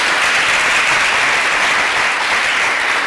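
Steady applause from a school quiz-show audience, dense and even clapping throughout with no talk over it.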